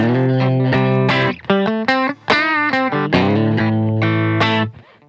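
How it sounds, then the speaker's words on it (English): A distorted electric guitar on its bridge pickup, recorded without an amp, plays a bright, cutting melody of sustained notes and quick runs, loud and close with no voices. "So this is the sound of the bridge pickup."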